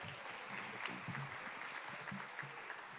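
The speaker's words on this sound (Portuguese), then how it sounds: "Salva de palmas, gente." Applause from an audience at a children's rights honoring ceremony, fairly quiet and distant, a steady wash of clapping with some low murmur beneath.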